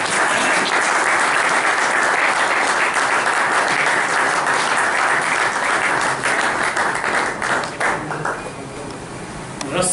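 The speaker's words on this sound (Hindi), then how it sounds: "अभी मैं आप सब की तालियों में उन्हें यहाँ पर दावत देना चाहता हूँ, ब्रदर क्लारेंस हया, कि वो सामने आए।" Sustained, loud applause from an audience at a Mass in a Franciscan friary in Karachi, dense clapping lasting about ten seconds before thinning out at the end.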